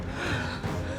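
Heavy, exhausted breathing from a contestant on a fitness reality show right after carrying tyres: a close, short gasping intake and release of breath, alone with no speech.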